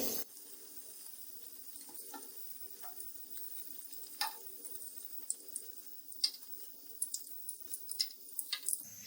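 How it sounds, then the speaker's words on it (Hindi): Bread chicken pockets frying in hot oil, a faint, steady sizzle with scattered small pops and crackles that grow more frequent toward the end, close up and alone. "इसी तरह ये हम सारी पॉकेट्स फ्राई कर लेंगे।"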